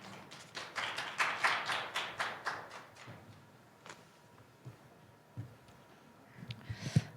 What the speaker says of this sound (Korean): 정유아 실장님 앞으로 모실 때 큰 박수로 맞아주시기 바랍니다